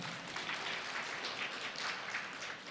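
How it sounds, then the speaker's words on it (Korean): Faint, steady clapping from a youth congregation at a Korean church service, an even stream of many hands heard from a distance, with no voices over it. "박수."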